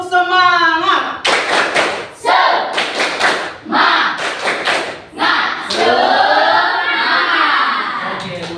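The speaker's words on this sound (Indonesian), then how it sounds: "Tepuk semangat." A classroom group performs a rhythmic spirit clap, sharp bursts of hand claps in a steady patterned beat with voices chanting along at the start and end.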